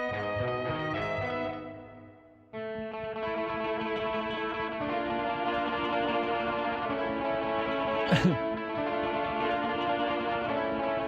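Delayed electric guitar from the Spitfire Albion Solstice sample library plays sustained, echoing notes that trail off, then a second swelling passage rings on steadily with a brief bright strike near the end, no voices.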